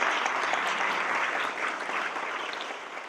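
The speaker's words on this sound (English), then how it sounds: "Yes, worthy of applause." An audience at a speaker event gives a short round of applause: dense, even clapping from many hands that eases off slightly toward the end, with no speech over it.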